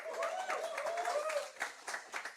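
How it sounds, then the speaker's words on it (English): At a youth business webinar event, a small audience gives faint, thin applause that tapers into a few scattered claps while a voice carries on over it. "with a round of applause, please let's welcome Ms."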